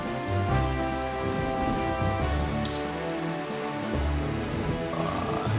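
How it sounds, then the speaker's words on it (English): Rain and stormy weather in The Wind Waker, a steady wash of falling rain over looping low game music, even and constant with no one speaking. "it looks like it's getting a little stormy"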